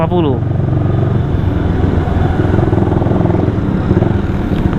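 A CS1 250cc motorcycle's loud, tinny exhaust drones steadily up close, running continuously beneath someone talking.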